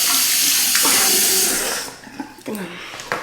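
Tap water runs steadily into a sink while someone rinses their face, a close, hissing flow that breaks up near the end into short splashes.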